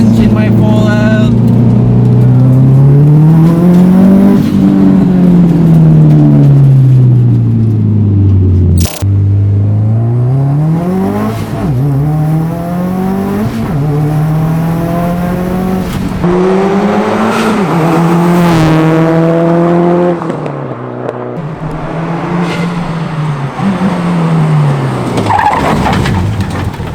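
Car fitted with a Cobb flex fuel kit and tune pulls hard, its engine note climbing and dropping through gear changes with scrabbling tire squeal, loud and close for the whole stretch.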